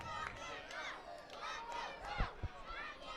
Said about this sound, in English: You can hear the fans.